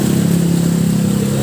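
Motorcycles on a flooded road during heavy rain in Marikina City, a steady engine hum blended into a dense, continuous wash of rain and water noise, with no voices.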